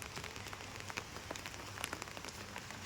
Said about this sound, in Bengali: এই বৃষ্টি টিপ টিপ করে পড়ছে